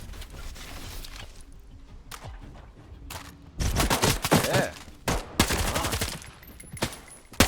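Rapid bursts of gunfire crackle in volleys in S.T.A.L.K.E.R. 2: Heart of Chornobyl in Pripyat, growing louder and denser midway, with a brief exclamation from a voice.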